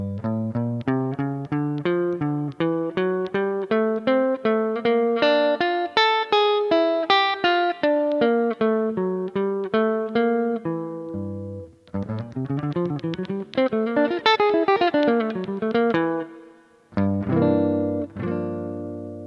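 Clean electric guitar plays a Dorian bebop line starting from G, a fast run of evenly picked single notes climbing and falling, close and alone, with a short pause before the final phrase.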